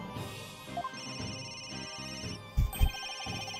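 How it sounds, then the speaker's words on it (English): A cell phone rings in the Ace Attorney Dual Destinies video game, giving repeated electronic ringtone tones with a couple of sharp bursts near the end, clear and fairly quiet. "Where's that ringing coming from?"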